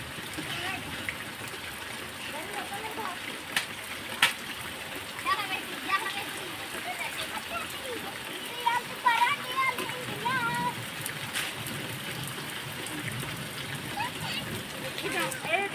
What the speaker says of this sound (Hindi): जबरदस्त खूबसूरत बारिश है